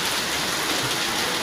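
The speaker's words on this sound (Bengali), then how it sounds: "বৃষ্টি এসে প্রচণ্ড বৃষ্টি পড়তেছে" A downpour of heavy rain, constant and loud, with thick pattering on surfaces close by and no voices over it.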